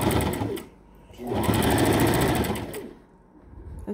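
A sewing machine stitches a fabric anti-fog face mask in two quick, buzzing bursts separated by short pauses, close up and loud, with a back stitch followed by a forward stitch.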